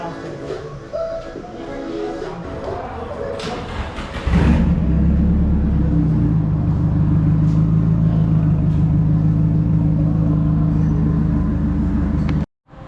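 A Nissan S14 with a blacktop SR turbo engine sits running, and a loud steady idle rumble starts abruptly after a few seconds of quieter background noise and holds until it cuts off near the end.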